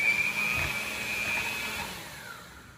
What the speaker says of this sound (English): Now we're ready to go ahead and start mixing our wet items